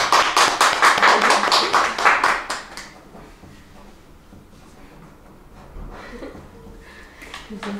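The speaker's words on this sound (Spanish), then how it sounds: "Les brindamos un fuerte aplauso" A short burst of clapping from a small group at a civil wedding, brisk and close, fading out after a few seconds into quiet room sounds and murmuring.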